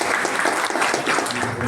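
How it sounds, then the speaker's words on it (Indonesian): A crowd at a PDI Perjuangan branch meeting in Denpasar Selatan claps, brief dense applause heard nearby, steady throughout. "tepuk tangan untuk kita semua"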